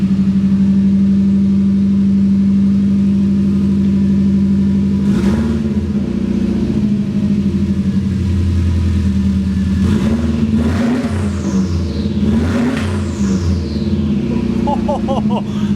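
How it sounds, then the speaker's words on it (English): A loud BMW M62 V8 engine in an E30 drift build, cold-started with just a downpipe and no exhaust, rumbles at a rough idle, then revs up sharply several times, with a backfire and voices talking over it. "Just downpipe, no exhaust. First start. Cold start."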